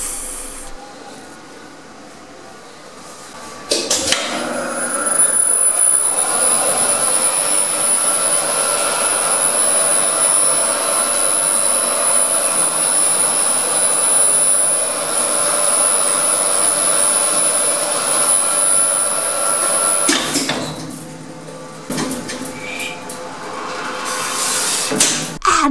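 Lift machinery roars in a motor room, a loud, steady mechanical rush with a high whine that starts abruptly, holds for about sixteen seconds, then cuts off, leaving quieter clatter and movement.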